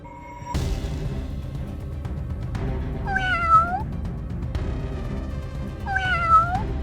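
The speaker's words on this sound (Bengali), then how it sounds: "একটি বিড়াল আসে, দুধ খায় আর সোনার মুদ্রা রেখে যায়।" Cartoon cat meowing in a Bengali animated tale, two clear rising-falling meows heard close over a continuous music bed.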